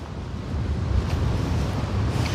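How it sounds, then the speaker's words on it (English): A water fountain on the National Mall in Washington DC rushes and splashes in a continuous, loud outdoor wash, mixed with wind buffeting the microphone, with no one speaking. "Let's go and listen to the water fountain."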